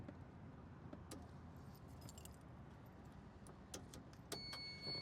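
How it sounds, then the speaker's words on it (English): Ignition key slid into a 2007 Campagna T-Rex trike with a Kawasaki 1350cc engine: a light metallic jingle and click of keys near the middle and end, faint and close, over a low steady background rumble. "We will put the ignition key in."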